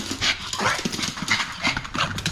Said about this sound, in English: you're going to have to get the dog to calm down